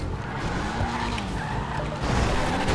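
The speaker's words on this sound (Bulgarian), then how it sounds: "може да се направи дрифт кола" Drift car in a video game skidding, a continuous tire squeal with rising and falling pitch over a loud, steady engine roar, close and sustained throughout.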